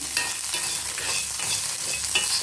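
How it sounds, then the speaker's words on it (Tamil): Coconut, garlic and ginger sizzle in a pan for a mint chutney, with steady frying crackle and a spatula scraping and stirring close by, no voices. "தேங்காய், பூண்டு, இஞ்சி வதங்கட்டும்"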